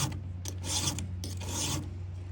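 A square file rasps across a chainsaw chain by hand, in two close, steady strokes of harsh grinding over a low constant hum, with no talking.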